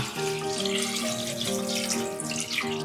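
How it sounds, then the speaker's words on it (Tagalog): Five cups of water are poured from a container into rice for Cebu-style steamed fried rice, a close, steady gurgling pour with a rising pitch as the vessel fills, alone without talk. "Let's add the water, no? Add lang natin yung tubig. 5 cups of water."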